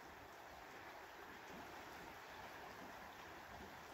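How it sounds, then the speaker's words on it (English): The Rio Grande River flows quietly at its headwaters near a campground, a soft, steady wash of moving water heard alone at low level. "So I bet you've already guessed that's the Rio Grande River."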